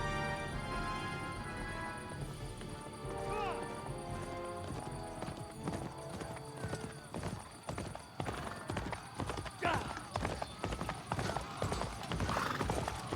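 Horse hooves clip-clop in Kingdom Come: Deliverance II, starting as a slow walk and picking up into a rapid, rhythmic trot with layered game ambience and music.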